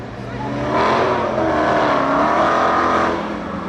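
A 900-horsepower Dodge Hellcat at a speedway spectator drag race roars loudly, its engine swelling to a sustained high-revving drone for about two seconds before easing off, with faint crowd voices around it.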